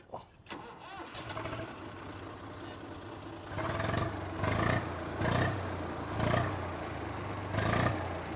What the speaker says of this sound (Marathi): आणि हा ट्रॅक्टर सेल्फ स्टार्ट आहे.